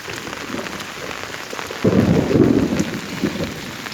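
Heavy rain pours steadily over a flooded roadside and waterlogged fields, a dense continuous hiss that swells louder partway through, with no voices.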